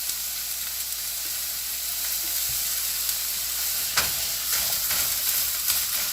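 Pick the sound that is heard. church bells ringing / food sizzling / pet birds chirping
food sizzling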